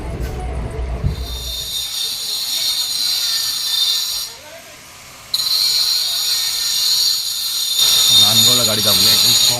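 A Madgaon–Nagpur Express train rolls slowly past Manmad station, with a steady rumble and high metallic wheel whine and squeal that briefly drops away then returns, heard from on board.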